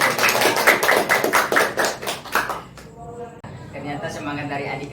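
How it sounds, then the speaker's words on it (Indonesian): A group of students claps in a classroom, a dense rhythmic burst of hand claps that fades after a couple of seconds, followed by an adult speaking. "Ya, beri aplaus dulu."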